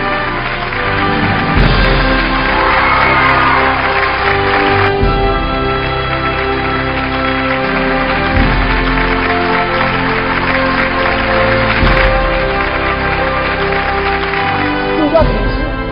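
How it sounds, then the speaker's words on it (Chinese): Audience applause at a Suzhou television storytelling anniversary award ceremony, a sustained, even wash of clapping across a large hall, with music and voices mixed underneath. "掌声有请"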